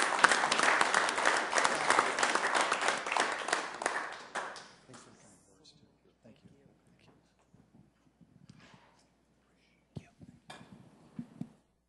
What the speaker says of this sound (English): Let's give a round of applause to Steve and Pride and for being here.